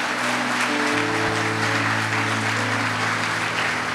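A church congregation bursts into dense, sustained applause that fills the whole stretch, loud and steady, while held keyboard or organ notes sound underneath.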